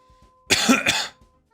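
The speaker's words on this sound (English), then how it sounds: "No, I'm just fucking coughing, man." A single harsh cough, loud and close, a short rough burst with a brief second push, set against near silence.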